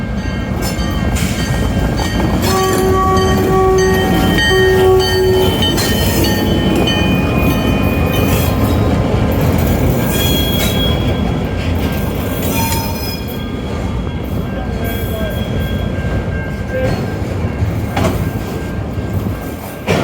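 A CNR freight train rumbles past close by, steady and loud, with metallic wheel squeal and rattling cars continuing throughout.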